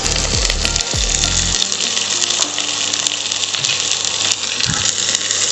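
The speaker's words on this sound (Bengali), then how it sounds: "শিম এবং মটরশুঁটিটা ভালো করে একটু ভেজে নিয়েছি" Broad beans and green peas frying in a pan give a loud, steady sizzle and crackle, with a few low knocks and scrapes from stirring.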